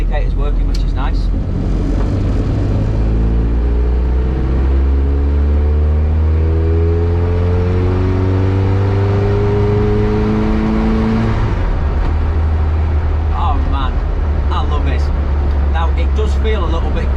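Old engine of a 1972 classic minivan while driving, a steady low drone with rising revs as it pulls away, then settling to a loud, continuous hum.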